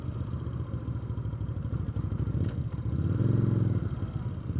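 A VOGE CU625 motorcycle engine chugs with a rapid pulsing rumble while riding, close up, then swells as it revs higher, with some clattering mechanical noise.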